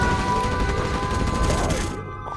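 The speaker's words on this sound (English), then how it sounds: "We have launched our nuclear missile." Nuclear missile launching in Command & Conquer Generals Zero Hour with the GEN EVO mod, a loud, dense roaring rumble with crackling bursts that holds steady for about two seconds and then thins out abruptly.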